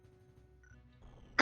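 A single short cough from a man, sudden and fairly close, after a quiet stretch with low background hum.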